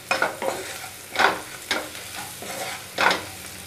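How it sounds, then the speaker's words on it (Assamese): Khichdi ingredients stirred and frying in a pressure cooker, with a spoon scraping the pot in about five distinct strokes over a soft, steady sizzle, close and alone. "আৰু ভালদৰে এইখিনি লৰাই দিছোঁ।"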